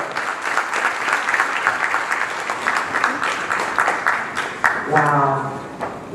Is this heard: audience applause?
yes